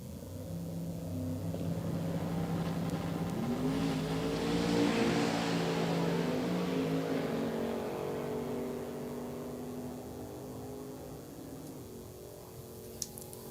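Drag racing run with a Mopar on the right lane and a pickup truck on the left: a loud, sustained engine roar that swells in the middle and slowly fades into the distance.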